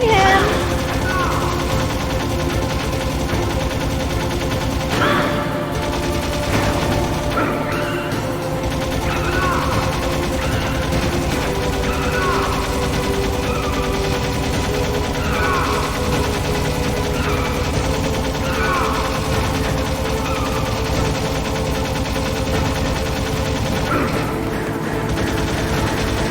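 Gunfire from shooting an enemy in Metal Gear Solid, with repeated shots cracking through dense game music and noise over a long stretch.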